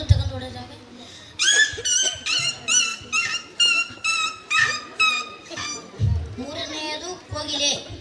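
A person imitates a puppy yelping in pain after being struck by a stone, giving a rapid run of about ten high, strained yips and whimpers. It is performed loudly and close at a school talent event.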